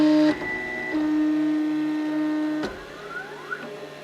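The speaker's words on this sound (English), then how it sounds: "Now let's see what happens when I turn on the machine. It's going to bring the carriage back." A Da Vinci Pro 3D printer switching on and homing its carriage: a loud steady electronic motor whine that steps in pitch, then a click and softer rising-and-falling stepper tones as the carriage moves back, heard close with no talking.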